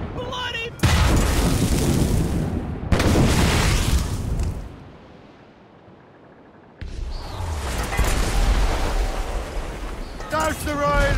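Ship cannons firing in the naval combat of the video game Assassin's Creed Rogue, heavy booming bursts near and loud, with a brief quieter lull before another barrage and shouted voices amid the noise.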